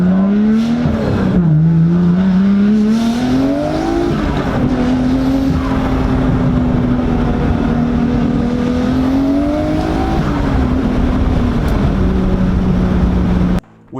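Nissan GT-R with a 2.6 liter six-cylinder, R35 coils and HKS GTSS 2860 turbos, revving loud and close, the pitch climbing and falling through several pulls in a sustained roar.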